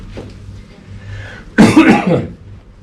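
A single harsh cough burst from a man recovering from flu, loud and close, following a quieter stretch with faint background murmur.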